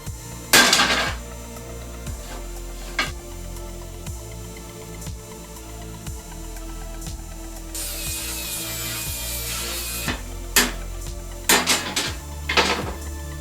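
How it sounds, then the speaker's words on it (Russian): Cutting off a solid 12 mm steel round bar welded onto a Harley-Davidson Panhead frame, heard close and loud as rhythmic metallic strikes and scraping, with a sustained shrill grinding burst in the middle and sharp clanks toward the end. "Дальше я взялся срезать наколхоженный под 19-ю покрышку металлолом"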